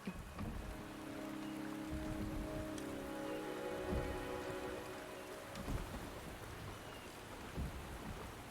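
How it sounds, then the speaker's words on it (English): Steady rain pours in the Wuthering Waves video game, a dense continuous hiss with low rumbling that swells and fades throughout, with no voices. "The rain is subsiding,"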